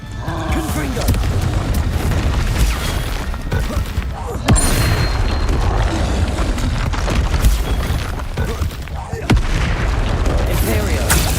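A fire-blasting Confringo spell explodes in the game Hogwarts Legacy, a loud booming burst amid a dense, continuous roar of combat effects, with a sharp impact near the middle and another near the end.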